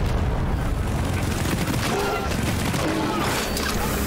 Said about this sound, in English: Rick, I'm yeeting grenades.